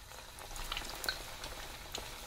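Potatoes for a sharla aloo street-food dish fry in oil in a kadhai, giving a steady crackling sizzle with a few sharper pops, close and alone without talk.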